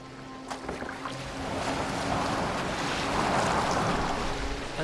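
A boat moves across open water in Assassin's Creed Valhalla, with a steady wash of waves and wind that swells slightly in the second half, with no talk over it.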